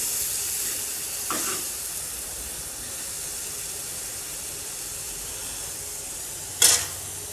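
Minced meat sizzles steadily in a pan with onion and ginger, a constant hiss of frying with a couple of brief louder bursts of steam or stirring.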